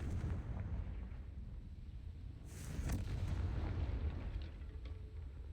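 A Confringo spell blast in Hogwarts Legacy, a fiery magical explosion that swells into a loud rumbling boom midway and then tails off into a low, sustained roar.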